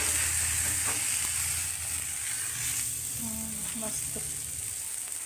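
Thalipeeth frying on an oiled tawa gives a steady, close broadband sizzle that lasts throughout, with faint utensil clicks and a brief spoken word over it.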